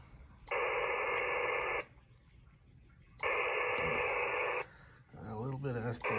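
Two long bursts of a buzzy digital Winlink data tone come over a low-power radio transceiver as an answer, separated by hiss, followed by a short warbling tone sequence.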